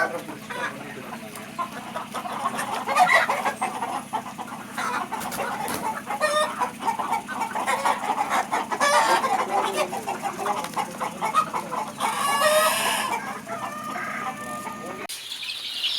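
Black chickens and their chicks cluck and peep on a farm, a busy, continuous chorus of close and distant calls with an occasional rooster-like cry.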